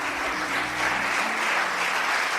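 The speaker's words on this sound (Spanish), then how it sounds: "qué les parece si le damos un fuerte aplauso de bienvenida?" Church congregation applauding in welcome, a dense, steady wash of clapping from many hands filling the room with no voices over it.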